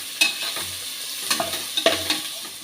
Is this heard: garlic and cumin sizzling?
yes